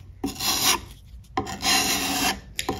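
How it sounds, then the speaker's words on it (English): Wood filler being pressed and scraped into holes on a mid-century modern wooden end table, two long rasping strokes separated by brief pauses, close and fairly loud with no talking. "it's important to get it from different angles so that you're moving the wood filler into the holes as tightly compacted as possible."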